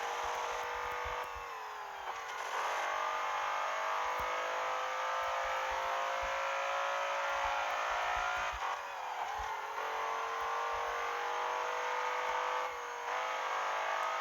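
A modified BMW M5 engine roars in the Assoluto Racing game, revving loud and close with rising and falling pitch through gear changes and brief lifts off the throttle.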